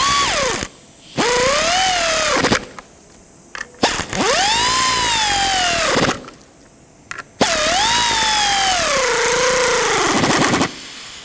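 A power drill drives 5.5mm screws into a blower motor bracket on a 2007-2009 Saturn Aura, with several close whining bursts that rise and fall in pitch, separated by short pauses.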